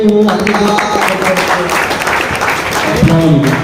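Applause at a prize distribution for a pigeon tournament in Udgir, a crowd clapping steadily while voices talk and shout over it.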